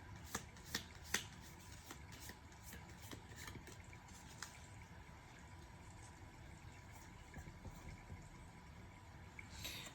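Tarot cards shuffled by hand during a reading, a soft papery riffle with a few crisp slaps near the start, fairly quiet and close, with no talking.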